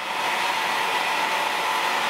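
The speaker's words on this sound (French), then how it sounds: "je sens l'air du sèche-cheveux pénétrer dans mes poils" A hair dryer blows close up while a beard is brushed and straightened, giving a steady, even rush of air noise with no pauses and no talk.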